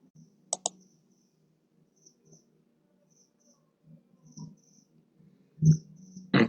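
A computer mouse gives a couple of quick, faint clicks close by in an otherwise quiet room, with a short double click early and another sharper click near the end, with no talking.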